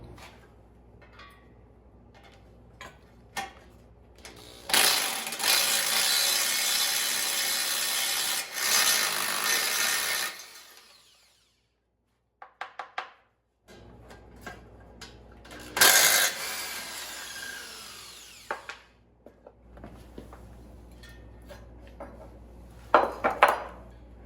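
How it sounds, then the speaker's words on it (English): Impact driver removing shear bolts from the augers of a 25-year-old MTD Yard Machines snow blower, heard as two long loud bursts of harsh rattling hammering about five seconds each, separated by shorter clicks and clatter, with a final brief burst. "Now I'm going to use my impact driver to remove these shear bolts so I can take the augers out"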